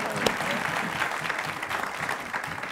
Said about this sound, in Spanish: Un aplauso para Mirta y para Copito